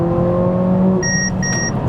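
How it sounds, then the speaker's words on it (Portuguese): A forward collision warning in a Mercedes-AMG CLA 45, closing on a truck ahead: two short, clear electronic beeps over the steady hum of the car in motion. "vocês já viram que o carro deu o alerta e já começou a pré-condicionar o freio"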